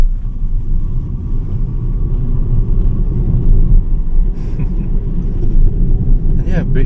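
BYD Seagull electric car accelerating, heard from inside as a steady low road and tyre rumble with faint whine, continuous and fairly loud throughout.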